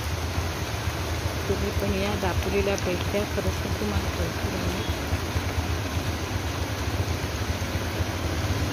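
Heavy monsoon rain pours down in Dapoli as a dense, unbroken hiss that fills the whole stretch while someone talks over it, her voice partly swamped.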